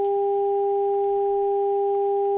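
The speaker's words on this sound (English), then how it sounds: "You just add layers of different kinds of oscillators at different frequencies" Two layered sine oscillators in Pure Data hum together as a pure, steady sustained chord, unchanging and alone against a faint noise floor.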